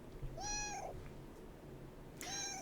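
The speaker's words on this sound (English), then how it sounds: "Hello, cat." A cat meows twice, a drawn-out mew followed by another after a pause, both fairly close and clear over a quiet room background.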